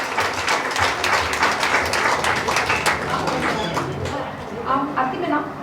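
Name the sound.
audience applause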